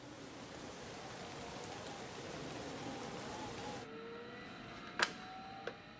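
Steady, dense rain hiss fills the clip, then drops suddenly near the end, followed by a couple of faint sharp clicks.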